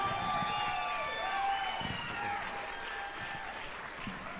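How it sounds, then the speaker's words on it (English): Applause from a scholarship gala audience at a casino venue rolls on at moderate volume, mixed with crowd murmur and a few scattered cheers, with whistle-like tones sliding above it. "Big round of applause."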